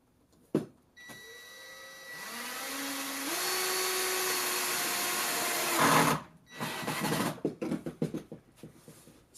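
A power drill drives 2.5-inch screws into wood while building a dinner table: a brief opening burst, then the motor whines steadily with its pitch stepping upward for several seconds before stopping, followed by irregular clunks and handling noises.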